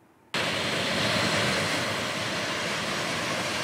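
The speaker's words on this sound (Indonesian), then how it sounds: "Pesawat kepresidenan yang membawa Presiden Prabowo dan rombongan mendarat di Royal Terminal Bandara Udara Internasional King Abdul Aziz" A presidential aircraft landing at Jeddah's King Abdul Aziz International Airport gives a loud, steady jet engine roar that starts abruptly and holds on without a break.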